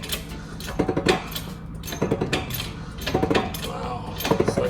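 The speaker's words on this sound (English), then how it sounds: "I'm trying to press this output shaft onto this new bearing" Metal clinks and clanks as a T18 Borg Warner transmission output shaft from a Jeep CJ7 is press fit onto a new bearing, a few irregular groups of sharp taps and rattles against a low background hum.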